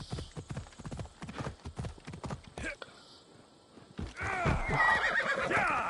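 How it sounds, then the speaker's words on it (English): In Assassin's Creed Odyssey, a horse's hooves clip-clop in quick rhythmic steps, then after a short lull the horse lets out a loud, shrill neigh near the end. "Come on, horse, get up."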